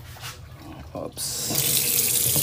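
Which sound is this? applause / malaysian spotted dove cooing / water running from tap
water running from tap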